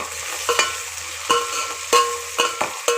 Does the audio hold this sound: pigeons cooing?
no